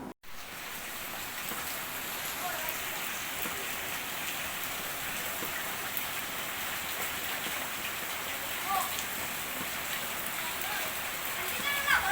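Light drizzling rain over farmland falls steadily throughout as an even, soft patter with a continuous wash of drops, moderately close, with no talk over it.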